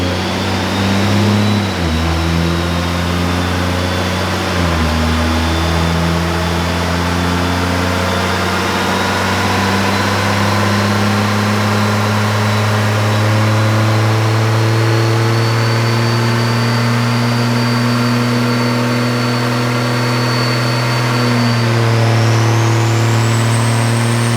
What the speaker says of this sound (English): You can tell the truck's blowing right through the load.